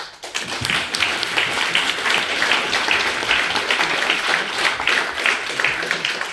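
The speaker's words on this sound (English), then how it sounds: "So a big clap for the 4 of them." Audience applause during a branch chair's Christmas address, steady dense clapping from a crowd sustained at even loudness throughout, with no talk over it.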